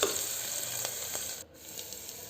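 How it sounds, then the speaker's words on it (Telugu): Green gram sprouts and curry leaves frying in a pan, a steady soft sizzle with faint crackles throughout, briefly dipping near the middle before resuming. "ఇవన్నీ బాగా బ్రౌన్ కలర్ వచ్చేంత ఫ్రై చేసుకుందాము."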